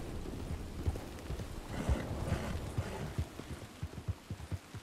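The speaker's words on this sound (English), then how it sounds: "The horse is whinnying, neighing" A horse in the Red Dead Online video game clip-clops along at a steady walking rhythm, hooves close and moderately loud over a low ambient hum, without any talk.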